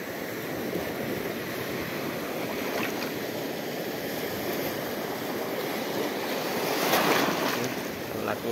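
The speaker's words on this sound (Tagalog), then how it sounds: "Laki yung alon." Big ocean waves surge and wash continuously, with wind buffeting the microphone and a louder crash near the end.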